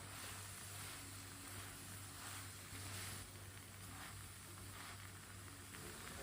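A paratha fries in a pan with a soft, steady sizzle that holds at a low level the whole time, and no one speaks.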